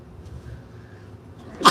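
A single short, sharp sneeze bursts out at the very end after a quiet, murmuring room background.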